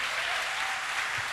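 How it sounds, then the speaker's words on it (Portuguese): Brief burst of dense, steady applause from a church congregation praising the Lord, a continuous clapping wash with no talk. "Você pode aplaudir ao Senhor se você crê."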